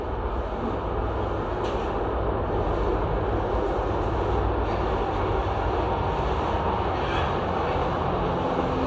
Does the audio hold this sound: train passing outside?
yes